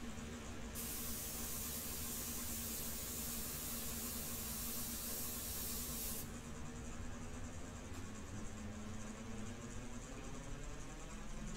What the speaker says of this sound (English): I want to do that with the airbrush